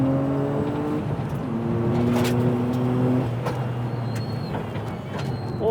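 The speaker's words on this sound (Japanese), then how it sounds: "スプリングを急遽変更しノブがチェック走行へ" A Toyota GR Yaris on a mountain pass test run after a quick spring change: a steady engine note rises and shifts through revs and gears, loud and close, with no talking.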